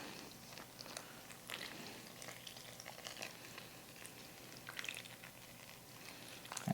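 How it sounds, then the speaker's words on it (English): Warm water poured slowly into a bowl of flour while homemade artisan bread dough is mixed, giving soft, faint wet stirring and squelching, close and continuous with no talking. "we're going to pour slowly and just mix up our dough together"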